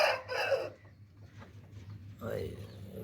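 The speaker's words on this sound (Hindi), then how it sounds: "एक मुर्गी यहाँ पे बैठी हुई है अंडों पे।" Chickens on a small rooftop poultry farm cluck and call in short bursts up close, with a brief crowing-like cry at the start and another near the end, and a voice talking in between.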